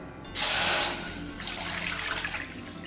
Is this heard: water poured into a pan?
yes